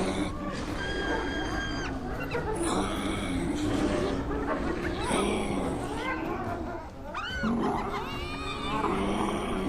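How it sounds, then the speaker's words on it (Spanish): An old lion roars and growls amid a noisy, crowded struggle with hyenas, and high whooping and yelping calls overlap the low rumbling throughout. "El viejo león rugió con fuerza, el rugido golpeó la pared oscura como un látigo."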